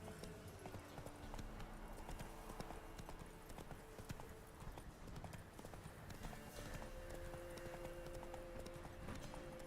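Roach, Geralt's horse in the video game The Witcher 3, trots with a steady clip-clop of hooves that keeps up across the whole stretch, moderately close, with faint game ambience and a brief snort in the background.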